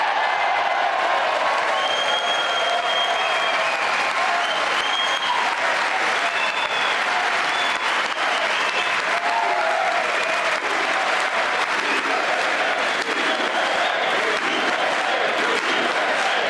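Members of the United States Congress applaud in a large chamber, sustained dense clapping from a big crowd that stays loud and even throughout, with faint scattered voices beneath.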